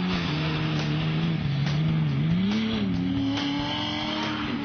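Off-road rally vehicles race on a hard, fast rally stage, engines loud and continuous, pitch rising and falling through revs and gear changes as they pass at a moderate distance.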